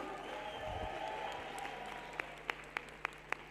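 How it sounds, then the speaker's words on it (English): Audience applause at a youth event, a moderate spread of clapping across the room, with a few louder, distinct claps close by near the end. "Give yourself a round of applause this morning."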